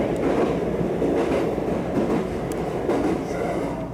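A local train near Wakayama runs between Funato and Iwade stations and crosses the Kinokawa river. A steady, close interior rumble carries faint rhythmic wheel clicks and a brief high squeal, with no voices.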